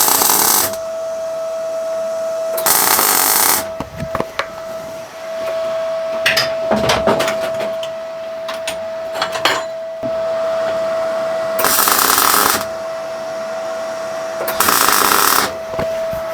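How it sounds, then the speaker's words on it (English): An R-Tech MIG181 MIG welder tack-welds the corners of steel box section in a jig, producing several short, loud bursts of harsh crackling buzz separated by quieter pauses with a steady tone in the background. "We'll put some tacks on this and then we'll take it out of the jig and weld it"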